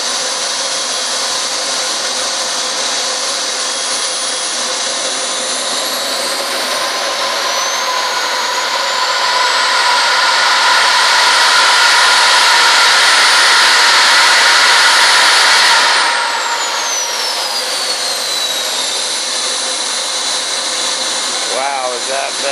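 A model F-18 jet engine on a test build runs at half throttle, a loud steady turbine roar with a rising whine that swells in the middle, then spools down near the end.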